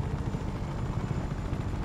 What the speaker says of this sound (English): Okay, I'm in a helicopter now.